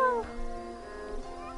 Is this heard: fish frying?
no